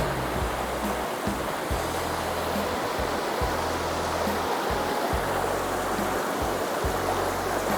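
A large river runs fast along a forest trail, a loud and steady wash of water that fills the whole clip with no break and no voices.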